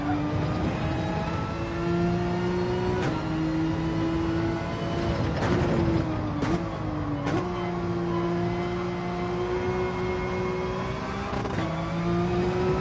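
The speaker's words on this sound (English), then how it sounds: "Don't want to hit that rev limiter, got to stop that." Porsche GT3 race car engine in a sim racing game, a steady high whine held near the rev limiter, dipping briefly with gear changes and clicks before climbing again, loud and continuous with no talk.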